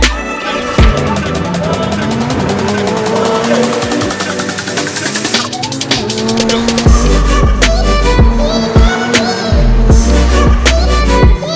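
Engines whine and rev as race cars pass close by on the Montreal track under a yellow flag, with rising and falling pitches and sharp bursts throughout.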